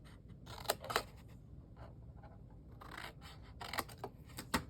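Scissors or a craft blade cut a square from the bottom of a sewing and recipe box, with close, quiet scratching snips in uneven bursts and short pauses between cuts.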